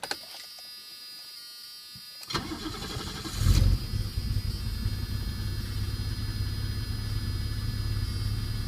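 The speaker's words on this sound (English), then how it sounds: "And with the key in, let's give it a start." A 1980 BMW 635 CSi, a Euro-spec car with automatic transmission, cranks and fires after a quiet start. Its engine then catches with a loud burst and settles into a steady, rumbling idle that holds close and even to the end.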